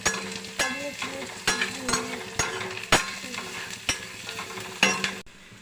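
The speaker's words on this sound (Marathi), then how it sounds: "आणि मग हा चांगला परतवून घ्यायचा आहे" Vegetables being stir-fried in a pan with salt for a homemade masala chutney, with steady sizzling broken by repeated sharp scrapes and knocks of a spoon against the pan at roughly one-second intervals, close and fairly loud.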